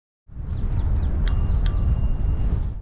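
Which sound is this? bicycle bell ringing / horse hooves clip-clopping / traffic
bicycle bell ringing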